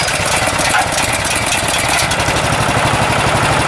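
The gas engine of a Graco 833 paint sprayer runs at a steady idle while warming up, a continuous rumbling drone with mechanical rattle throughout, loud and close.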